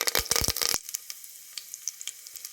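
Curry leaves hitting hot safflower oil and ghee with mustard and cumin seeds give a sharp, loud burst of crackling sizzle that quickly settles into faint, scattered pops and spits.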